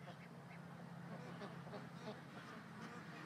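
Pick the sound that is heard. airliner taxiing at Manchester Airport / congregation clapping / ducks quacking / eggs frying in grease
ducks quacking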